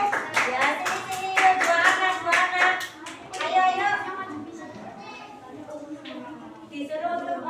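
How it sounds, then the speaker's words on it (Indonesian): Children in a classroom clap for student group one, a burst of rhythmic clapping over the first few seconds while a teacher and kids talk, then the clapping thins out under continued voices. "beri tepuk tangan dulu untuk kelompok 1"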